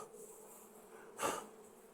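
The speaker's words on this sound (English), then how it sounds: "Try to slide it on, push these bees out of the way." Honeybees buzz during a fall hive inspection, a steady faint drone with a brief louder swell as bees are pushed aside near the frames.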